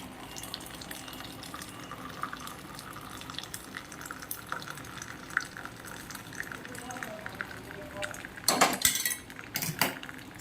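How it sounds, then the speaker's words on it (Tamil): Boiled hibiscus tea is strained into a vessel with a close trickle of liquid and clinking of metal utensils and pots, ending in a louder burst of pouring and clatter. "Now I am straining the tea"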